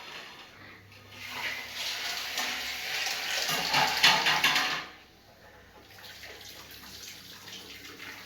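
Tap water runs and splashes steadily in a home kitchen while something is washed before cooking pasta, growing louder midway and then dropping back to a softer trickle.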